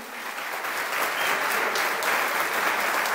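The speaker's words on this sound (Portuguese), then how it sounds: "pode aplaudir mesmo. Pode aplaudir." A church congregation at a Brazilian Portuguese-language couples' gathering breaks into sustained, dense applause, steady and fairly loud throughout.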